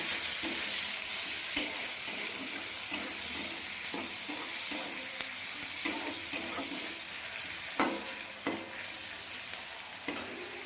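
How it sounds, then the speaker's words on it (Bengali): Chopped tomato being stirred into fried onions in a pan for a Bengali mushroom curry, with a steady soft sizzle and occasional light scrapes and taps of the spoon, fairly quiet throughout. "পেঁয়াজ আমার ভাজা হয়ে গেছে, দিয়ে দেবো টমেটো কুচি।"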